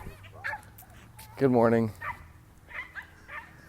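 Small dogs yap and whimper nearby, one sharp bark-like burst standing out between brief greetings spoken over them.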